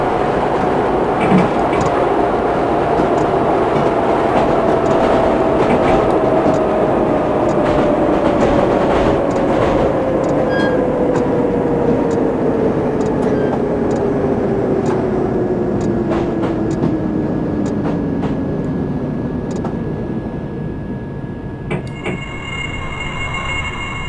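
A train in Train Simulator 2019 pulls into a station, its loud steady rumble joined by a long gliding brake whine that falls in pitch as it slows, with faint clicks toward the end.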